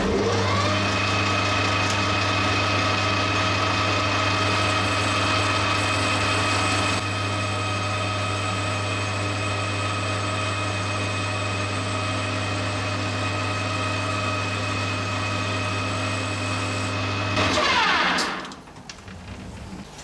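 Lathe boring the cylinder of a Titan .60 model glow plug engine: a steady machine hum with a constant tonal whine runs for about seventeen seconds, then winds down and stops.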